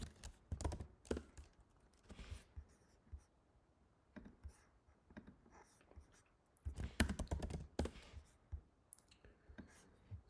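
Typing on a computer keyboard during game programming work, irregular bursts of soft clicking keystrokes separated by quiet pauses, close and faint with no talk.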